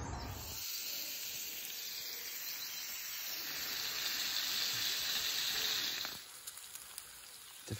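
Sausages and eggs fry in a griddle pan at a camping breakfast, giving a steady, close sizzling hiss that swells slightly before cutting off near the end, with no talk.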